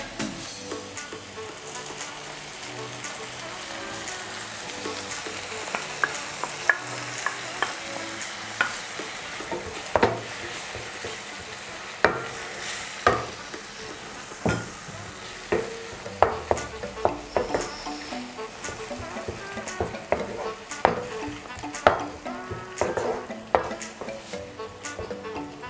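Okra masala for dhaba-style bhindi frying in a pan, a continuous close sizzle with frequent rhythmic spatula scrapes and clinks against the metal throughout, no talking.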